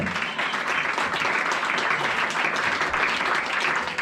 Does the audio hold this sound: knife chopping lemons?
no